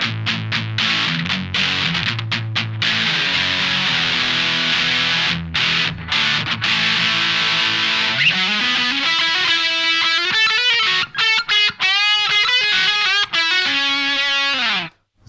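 Electric guitar driven through a Boss DS-1 distortion pedal, loud and sustained: held distorted chords and notes, then a bending lead line with bright harmonics and several choppy breaks near the end, no voice.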